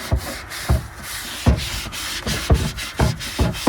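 Light scrubbing of a surface with the sponge side of a scrubber, heard as a steady series of short rhythmic rubbing strokes, close and fairly loud, with no talk.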